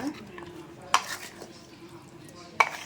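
A ladle stirs chicken 65 marinade in a bowl, giving soft, wet mixing sounds broken by two distinct metallic clinks of the ladle striking the vessel, close by and fairly quiet.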